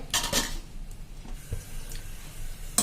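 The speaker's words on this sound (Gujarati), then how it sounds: "આ જે બનાવી છે ને આપણે ઢોકળી એ આમાં નાખી દેશું." Pieces of dhokli dropping into a pot of boiling moong beans, with a few close, sharp metallic clinks of a utensil against the pot and soft bubbling between them.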